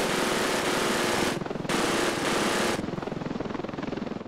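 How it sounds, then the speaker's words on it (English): Helicopter in the video game Ravenfield, its rotor roaring loud and close with a steady chopping throb that dips briefly and then pulses more distinctly as the clip ends. "I wonder where the helicopter is gonna land here."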